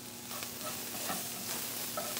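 Onions sweat in a pan with a steady, low crackle and occasional light stirring sounds, quiet and close.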